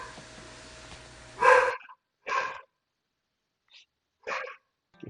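A dog barks indoors in a few separate loud, sharp bursts with silent pauses between them, while a steady Roomba vacuum hum runs under the first bark and then stops.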